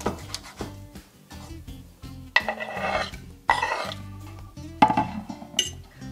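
A knife slices through a mushroom on a kitchen board, giving several sharp chopping knocks in uneven bursts while steady background music plays.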